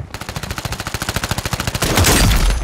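Rapid automatic gunfire in Call of Duty Warzone on the Rebirth map, a loud, evenly spaced burst of about twenty shots followed by a denser, louder blast of fire and impacts.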